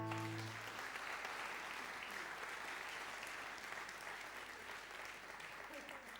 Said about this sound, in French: Applaudir.